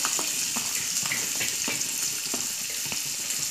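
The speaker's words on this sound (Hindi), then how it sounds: "अब मैं इसके अंदर प्याज डाल दूंगी" Onions hit hot oil in a pan with turmeric over a low flame, giving a steady, dense sizzle that hisses continuously throughout, close and fairly loud, with no talk.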